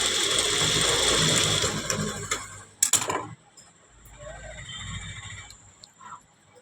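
Sewing machine stitching a patch-work design onto a blouse back neck, a dense whirring run for about three seconds that stops, followed by quieter handling noises and faint voice.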